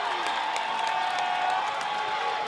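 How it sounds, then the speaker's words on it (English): A crowd at a 2009 high school basketball game between Dothan and Northview roars and cheers after a slam dunk. The noise is a steady, dense wall of voices and applause filling the gym. "That brings the crowd to their feet."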